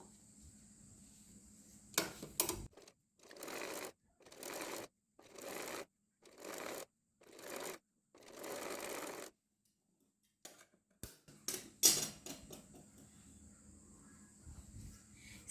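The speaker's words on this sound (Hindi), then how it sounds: "अब यहाँ पर सिलाई लगा देंगे" A sewing machine stitching fabric for girls' shorts runs in a series of short, evenly spaced bursts, about half a dozen quick runs separated by pauses, with fainter handling noises around them.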